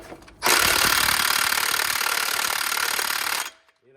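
A Snap-on impact wrench on a 1998 Peterbilt 379 roars in one loud, steady hammering burst of about three seconds, then cuts off abruptly.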